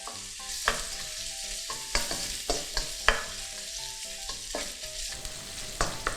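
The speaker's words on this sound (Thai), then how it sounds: "อันนี้ผัดเบคอนให้สุกค่ะ" Bacon stir-frying in a pan for yaki udon gives a steady close sizzle, broken by frequent scraping and clattering stirs and occasional louder knocks throughout, with no talking.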